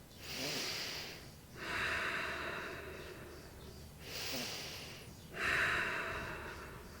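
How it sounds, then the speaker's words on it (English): Deep, slow breaths during a vinyasa yoga flow, four long airy inhales and exhales spaced a couple of seconds apart, close and soft. "Breathing here."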